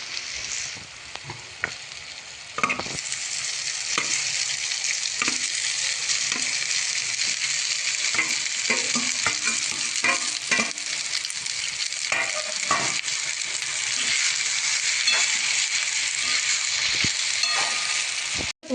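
Cooked rice stir-fried in oil and butter in a pan for spicy Schezwan fried rice, a steady loud sizzle broken by repeated scraping and stirring clatters, close and continuous with no talking.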